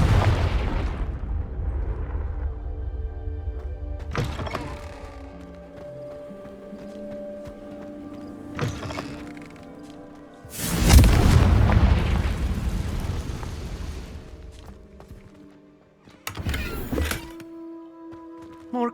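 Confringo fire-blast spell cast in Hogwarts Legacy, heard as several sharp bursts and booms spread across the stretch, the biggest a loud rumbling explosion midway that slowly fades, with quieter magical crackles between.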